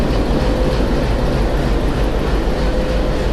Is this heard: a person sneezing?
no